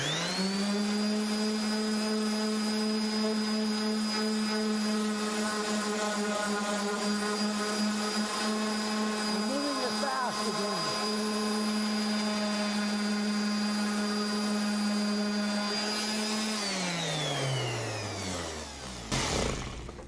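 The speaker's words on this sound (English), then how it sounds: "And then we'll just sand it down." A steady, high-pitched motor whine from a power tool working on wood trimmed with a Samurai saw, holding one tone loud and close before winding down near the end.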